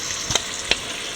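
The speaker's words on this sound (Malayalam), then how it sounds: "ഒഴിച്ചു കൊടുത്ത വെള്ളം തിളച്ചിട്ടുണ്ട്" Water comes to a boil in a pan for broken wheat upma, giving a steady soft hiss with two brief light clicks near the start.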